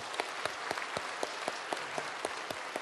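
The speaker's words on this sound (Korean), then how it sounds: "우리 환영의 박수 크게 부탁드리겠습니다." A church congregation applauds in welcome of new members during a Sunday service, with dense clapping and a few sharp individual claps near the listener, sustained and even throughout.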